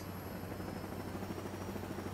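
A helicopter flies in the video game Saints Row, giving a steady, droning rotor whir that holds at an even level throughout, quiet and with no voices.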